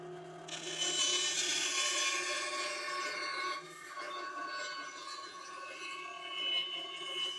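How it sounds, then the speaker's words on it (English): A WEN 9-inch band saw cutting curves in wood, a steady close rasping whir of blade through timber with a faint motor hum, running continuously at moderate level. "You wanted to cut curves with your bandsaw."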